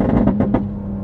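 Car exhaust with burbles turned to maximum, firing a rapid string of loud, close crackling pops over a deep engine drone that settles into a steady idle.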